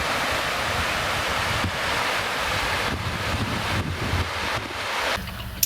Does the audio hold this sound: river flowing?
yes